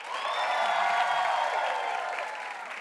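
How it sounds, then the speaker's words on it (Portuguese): A crowd applauds and cheers together, sustained clapping mixed with whoops and raised voices, fairly loud throughout. "Então vamos lá, palmas pro Ferdinando."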